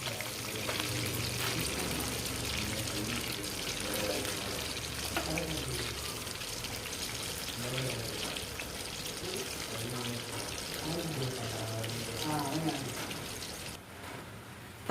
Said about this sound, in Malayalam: ഇനി നമുക്ക് നമ്മളെ ബോട്ടിലേക്ക് ഒഴിച്ച് കൊടുക്കാം